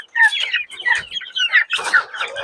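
Hungry Basilan native chickens cluck and squawk loudly and close by before feeding, a busy overlapping run of calls in quick bursts with no talking.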